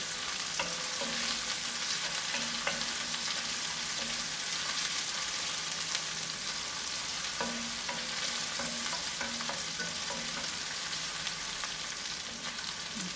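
A small chopped onion fries in a pan with a steady, fairly quiet sizzle, broken by occasional light stirring scrapes and taps.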